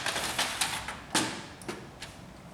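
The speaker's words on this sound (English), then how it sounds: "Remove the paper cassette." Paper cassette being pulled out of a Samsung laser printer, ML3310/ML3710 series, giving a string of sharp plastic clicks and sliding scrapes, several distinct snaps spaced irregularly, close and fairly quiet.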